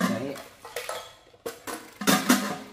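A stainless steel cooking pot is handled, giving a string of sharp metallic clanks and knocks at uneven intervals, close and fairly loud.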